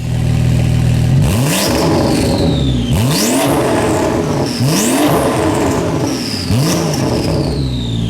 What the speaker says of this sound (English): the exhaust sounds pretty good too. Here are a few revs for your enjoyment